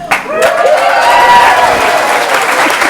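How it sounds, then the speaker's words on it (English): A political leaders debate audience breaks into loud applause, dense clapping swelling after a brief voice at the start and holding steady before easing slightly toward the end. "I think they're going to applaud every clause in the introduction."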